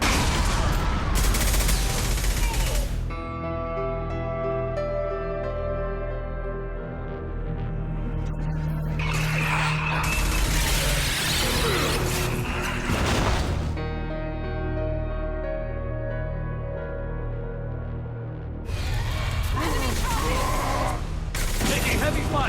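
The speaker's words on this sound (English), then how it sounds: "Taking heavy fire." Heavy gunfire rattles in sustained bursts of rapid shots and booms, loud and dense, easing into a lower rumble between volleys before erupting again, with voices faintly beneath.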